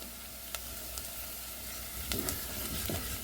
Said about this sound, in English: and give everything a stir through